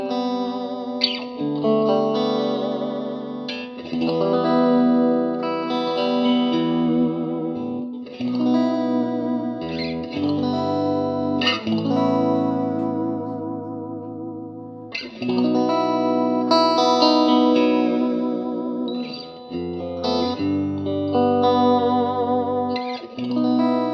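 A Fender Stratocaster on its bridge and middle pickups plays a continuous run of chords and notes through a Marshall DSL1CR practice amp, with a bright, slightly driven, lightly reverberant tone.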